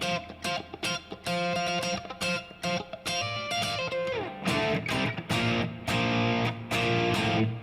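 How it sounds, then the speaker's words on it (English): Crunchy overdriven electric guitar played through a Fractal FM-9 amp modeler, loud and up front, strummed chords and picked notes in a steady rhythm with brief gaps between phrases and no talking. "But I like this crunch tone."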